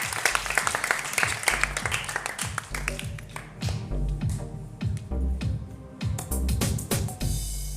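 An audience claps for children at a gathering, bursts of sharp, close hand claps that start dense, thin out, then pick up again in uneven rounds.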